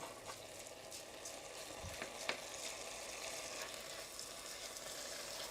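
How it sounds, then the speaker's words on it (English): Drained rice being stirred through hot oil and onion in a pan, giving a soft, steady sizzle with light scraping stirs and one sharper knock partway through, no voices. "we just want to stir the rice around so each grain of rice is covered by this lovely oily"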